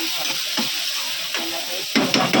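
Pomfret fish frying in a pan with salt and spice masala, giving a constant loud sizzle and crackle with a few stirring or turning scrapes, and no one speaking.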